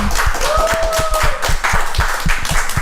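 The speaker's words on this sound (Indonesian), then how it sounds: "Kenapa tepuk tangan?" Hands clapping in a distinct, fairly fast rhythm, loud and close, with a brief sliding tonal whistle-like sound in the background.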